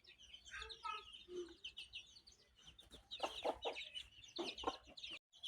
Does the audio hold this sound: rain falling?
no